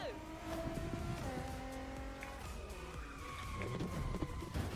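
A car driving in The Crew Motorfest racing game, its engine tone stepping through gear changes at a fairly low level, with light tire squeal mixed in.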